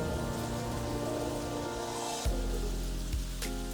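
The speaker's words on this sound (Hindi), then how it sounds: "फिर से बारिश होने लगी।" Rain falls again in a steady, even hiss, with a low rumbling hum underneath and a couple of brief knocks partway through, close and continuous without speech.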